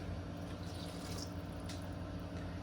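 Water is poured from a cup into a boxed chocolate cake mix along with eggs and vegetable oil. The pour makes a faint, steady trickling in a quiet kitchen.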